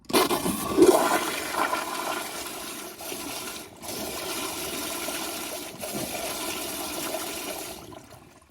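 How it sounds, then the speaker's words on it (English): Toto CT705 toilet, a restored 2016 model, flushing with a strong rim rinse, a steady rushing gush of water close by that holds for about eight seconds and then tapers off, with no talk. "I'm gonna keep on pressing the handle down. Watch how powerful that rim is."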